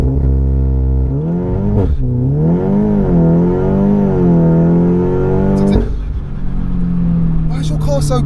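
A stripped-out 406 bhp Audi S3 saloon engine roars as it accelerates hard with wheel spin, revs climbing and dropping through gear changes, loud and close, with a brief roughness near the start.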